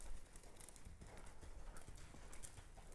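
A horse canters in training, its hooves clip-clopping in a quick rhythmic beat on the ground, faint and somewhat distant.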